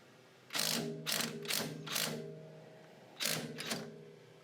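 An impact gun hammers on a coilover nut during a Honda Prelude suspension job, delivering short rattling bursts close up: four quick bursts, a pause, then two more.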